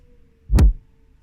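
A single loud, punchy layered kick drum from an electronic pop production, struck once and alone, with a deep thump and a brief bright click on top.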